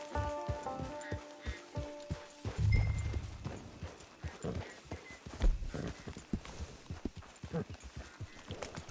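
In Red Dead Redemption II, a horse's hooves clop at a walk, steady and close. Soft rain-like patter and a few low thuds run underneath, and nobody talks.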